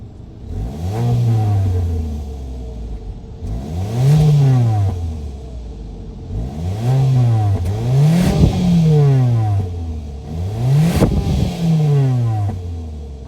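A 2023 Mitsubishi Eclipse Cross SEL Touring's 1.5-liter turbo four-cylinder is revved repeatedly, with five or six rising-and-falling pulls from idle, each climbing sharply and dropping back, heard close and clear with no talk.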